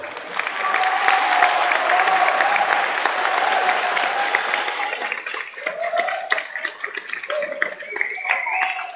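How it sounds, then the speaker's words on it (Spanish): A crowd at the 2013 youth expression contest claps for the teachers who organized the event, dense sustained applause with voices and cheers rising through it. "Quisiera pedirles un aplauso para los profesores y profesoras que organizaron este evento."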